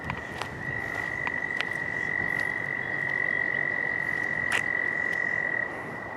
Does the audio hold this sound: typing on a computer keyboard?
no